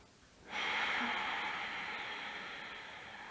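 A long ujjayi yoga inhale through the nose with a constricted throat makes a steady, ocean-like hissing rasp that begins suddenly and holds for almost three seconds, close and clear.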